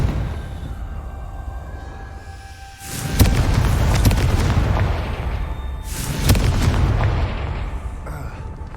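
Confringo blasting spell explosions in Hogwarts Legacy, two heavy booming blasts a few seconds apart, each with a sharp onset and a long rumbling tail.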